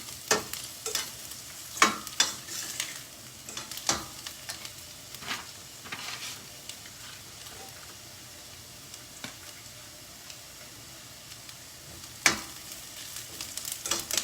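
Onion frying in a pan with ginger garlic paste, a soft, fairly quiet sizzle broken by scattered ticks and scrapes from stirring, with no voices.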